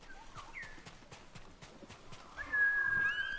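A horse named Plötze in the game Ghost of Tsushima stamps with soft clip-clop hoof sounds, then gives a short whinny near the end; moderately close, with no talk.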